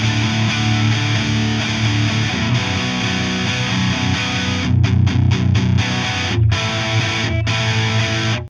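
An electric guitar runs through the modern high-gain channel of a Mesa Boogie Trem-O-Verb Dual Rectifier, giving dense, saturated chugging with several sharp muted stops in the second half, loud and close with no talking.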